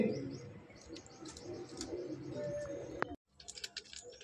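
Breeding pigeons coo in a loft, soft overlapping calls blending with faint chirps and background rustle, cutting out briefly before resuming in short bursts.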